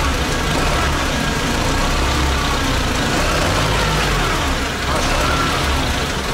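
An old T-40 tractor engine runs cold just after a hard start, a loud, steady low rumble close by, with people talking over the noise.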